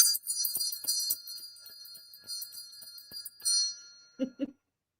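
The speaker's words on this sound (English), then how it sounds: "it is choice of the cardinal bell or the Christmas 2001 bell" Two small collectible Christmas bells, a cardinal bell and a Christmas 2001 bell, about two inches tall, ring with bright, high tinkling strikes, followed by a couple of low knocks near the end.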